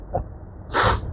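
A single person sneezes once, a short intake followed by a loud, sharp, breathy burst, heard close and alone without talk.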